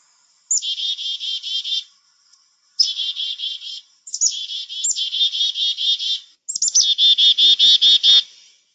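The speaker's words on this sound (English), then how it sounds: "And then I have a black-capped chickadee call." A black-capped chickadee call played from a phone, five bright, rapid buzzy bursts in a row, clear and close with silence between them.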